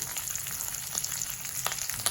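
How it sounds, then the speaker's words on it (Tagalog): Milkfish (bangus) fries in a hot pan, sizzling and crackling with a steady hiss and small pops scattered throughout, fairly quiet and with no one talking. "Nagpiprito po tayo"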